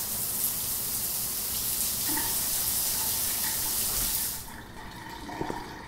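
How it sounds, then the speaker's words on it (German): Shower water in a video game hisses and sprays in a steady loud rush for several seconds, then cuts off abruptly, leaving quieter room sounds and a few faint clunks. "Einmal unter die Dusche."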